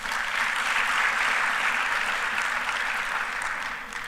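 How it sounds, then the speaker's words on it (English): Audience at a renewable energy conference and expo giving a round of applause, a smooth, even wash of many hands clapping that holds steady and tapers off slightly at the close. "Another round of applause."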